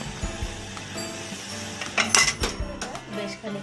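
Metal lid lifted off a cooking pot of cauliflower mash, a few light clinks and scrapes of metal against metal, close and fairly soft, with a voice talking softly in the background.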